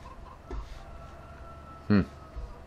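Chickens in the farming game Farming Simulator 17 give a few short clucks, one loud near cluck standing out over a quiet background hum, with fainter calls around it.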